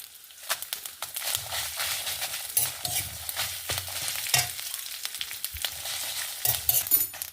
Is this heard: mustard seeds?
yes